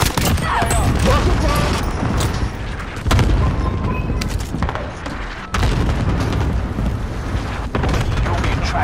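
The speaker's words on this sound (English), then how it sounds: "cluster strike arriving! Enemy fucking fire!" Video game battle with dense, loud cluster strike explosions and rapid gunfire booming and crackling continuously for several seconds, with players shouting over the barrage.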